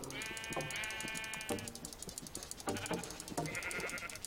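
Sheep bleating in Minecraft, several wavering, nasal bleats repeating over a busy game-sound background, fairly close and clear, with no talking.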